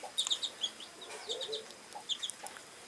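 A hen with young chicks on a Kienyeji poultry farm gives soft, scattered clucks mixed with high chick peeps, fairly quiet and close, with no talking.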